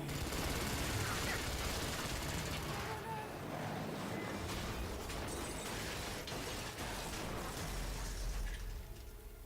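Gunfire in Rise of the Tomb Raider rattles in dense, continuous bursts over a rumbling battle backdrop, loud throughout, with shouting voices mixed in.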